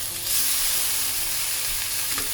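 Bite-sized pork pieces hit a hot pan for a Tamil-style starter and sizzle loudly and steadily, a dense crackling hiss that stays close and continuous with no talking.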